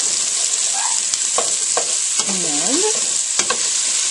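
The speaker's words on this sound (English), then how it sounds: "So now I'm going to add the red pepper and stir it up." Red pepper and onions sautéing in butter in a pan, a bright steady sizzle with several spoon knocks and scrapes against the pan as they are stirred, close up.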